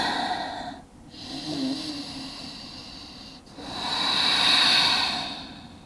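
Slow, steady breathing during a yoga forward fold, long soft airy breaths drawn in and let out one after another, close and alone with a gentle hiss.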